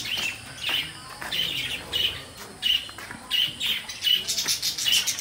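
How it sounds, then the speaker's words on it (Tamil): Lovebirds at Amirthi Zoological Park in Vellore, Tamil Nadu, give repeated sharp, shrill chirps and squawks in quick bursts, fairly close and loud, with no talking. "எப்படி இருக்குது பாருங்கள் லவ் பேர்ட்ஸ்,"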